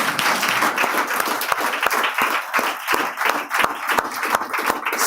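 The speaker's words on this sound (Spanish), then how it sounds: "Un aplauso a esta dama" A church congregation applauds a woman during a sermon, a dense, steady wash of many hands clapping close by for about five seconds, with no talk over it.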